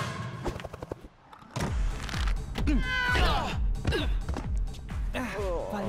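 A cat meows in the LEGO Marvel Super Heroes 2 video game, with short wavering cries mixed among character dialogue and game effects.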